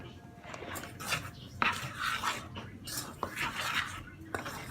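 Chocolate chip cookie dough is mixed in a bowl with a utensil, giving irregular clinks, scrapes and knocks against the bowl, close up, while voices murmur softly in the background.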